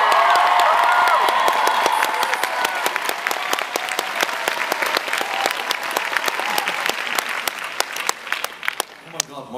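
Audience at a San Diego Comic-Con 2015 panel for Adventure Time and Steven Universe applauds and cheers loudly and steadily, sharp individual claps standing out, with voices mixed in near the end.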